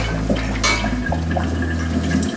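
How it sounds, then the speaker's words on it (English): Blanched green bean water pours out steadily while draining, a continuous rushing, splashing flow with a low hum underneath that cuts out partway through. "You want to drain that water, and you want to cool them down pretty quickly."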